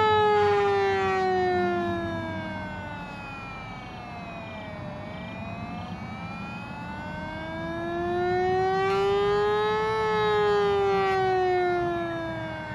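A 3D-printed replica of a Whelen WPS 2802 electronic siren wails loud and close, its tone sliding down and back up in a slow, even cycle.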